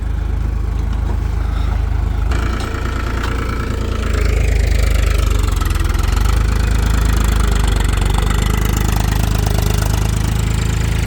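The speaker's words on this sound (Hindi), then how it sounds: "ये भाई ट्रैक्टर ना अपने आप भी चलता है," Close, loud engine drone from a self-driving tractor with an automatic system, working a potato sowing field; the steady chugging idle swells slightly partway through and carries on without any voices.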